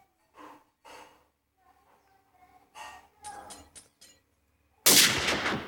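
Gunshots in the Minecraft video game: a few short breathy bursts, then a sudden loud blast near the end that sustains briefly.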